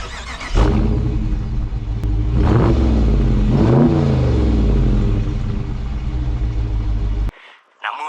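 A 2023 Dodge Charger R/T's 5.7 liter Hemi V8 revs with a loud, deep rumble. Its pitch swells midway, then it settles back to a steady idle before the sound cuts off abruptly near the end.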